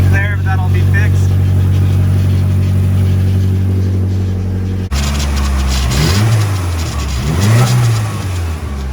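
An SR20 turbo engine with a new downpipe fires up and runs close by, loud and rough, first idling steadily then revving in a couple of rising and falling swells, with some talking mixed in.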